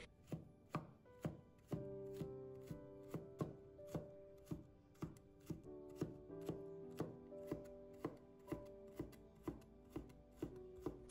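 A knife chops food into small dice on a cutting board, a steady run of close, crisp taps about two per second, quiet and with no voices.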